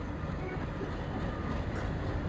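A train departs a station in Trainz Simulator on a Sivaganga to Rameswaram route, with a steady, loud rumbling drone of the moving train filling the whole clip and no gaps.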